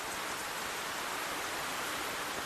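Rain falling steadily, a dense even hiss of broadband noise with no breaks or distinct drops, moderately loud and alone without voices.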